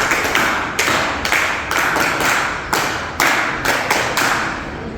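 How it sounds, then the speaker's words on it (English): A group of people at a school board exam orientation programme claps for students in short rhythmic bursts, several rounds of sharp claps close and loud with brief gaps between them. "So we will clap for you."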